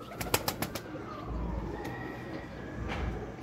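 Pigeons coo softly on a rooftop loft of birds for sale, a few low coos over steady background noise with some brief sharp clicks near the start.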